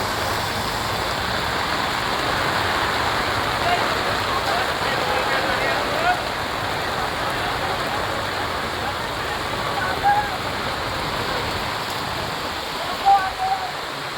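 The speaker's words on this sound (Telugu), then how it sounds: "ఒక్కసారి చూడండి వర్షం ఏ రేంజ్లో పడుతుందో" Heavy rain pours down in a dense, steady roar that stays loud and close throughout, with a few faint knocks and spatters near the end.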